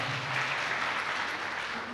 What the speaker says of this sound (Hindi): पहले ही ताली बजाने लग रहे।